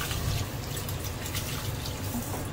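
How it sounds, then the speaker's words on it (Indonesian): Tap water runs steadily into a sink while rice is washed, a close, continuous splashing rush with no voices. "sekarang saya mau cuci berasnya, mulai masak ya"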